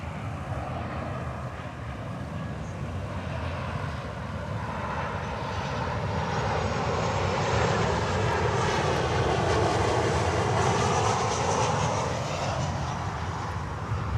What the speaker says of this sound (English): next inbound, another 737-800, American Airlines